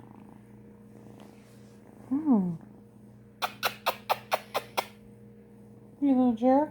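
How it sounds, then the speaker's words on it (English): A kitten purrs softly and steadily in a close, quiet room, with a couple of short meows and a rapid burst of clicking sounds, while someone speaks briefly. "Can you hear him purring?"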